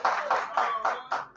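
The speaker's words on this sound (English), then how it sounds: "A round of applause for him." Brief applause from an audience at a Rotary Club anniversary fellowship event, a few uneven bursts of clapping close by with a voice mixed in.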